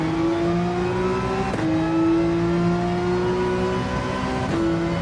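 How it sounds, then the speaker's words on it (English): Porsche 911 engine revving in the racing game Gran Turismo 7, a steady loud drone with rising pitch, two brief gear-shift breaks, continuous throughout with no talk. "Glad to be back in the Porsche 911"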